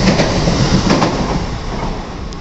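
An N700S Shinkansen, the Nozomi 353, pulls into platform 13 at Kyoto station with a loud, close, continuous rumble and rolling wheel noise. Brief sharp clicks sound near the middle.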